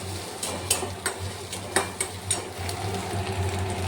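Egg frying in a pan with green chilli, turmeric and salt, a steady low sizzle beneath a series of sharp spatula and utensil clinks against the pan, close and moderately loud.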